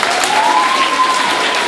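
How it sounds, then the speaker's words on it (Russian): Applause at a children's summer camp award ceremony, a short dense burst of clapping from a group with a faint whistle-like tone running through it. "Отряд номер 3. Аплодисменты."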